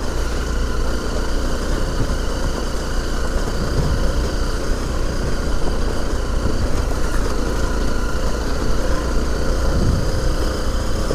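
A motorbike engine runs continuously while riding a rocky, slippery trail, a loud steady drone with rumbling throughout and no talking over it.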